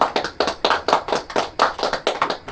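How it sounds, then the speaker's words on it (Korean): An audience at a church meeting claps together in a short, brisk burst of quick, even hand claps, close and without talk. "박수 한번 해주시고요."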